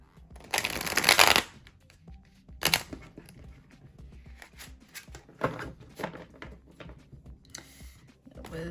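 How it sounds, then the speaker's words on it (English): A deck of cards is shuffled at close range, a loud burst of riffling followed by a shorter riffle and then lighter scattered card handling and taps, with no talking. "I'm going to go back and shuffle a little bit more."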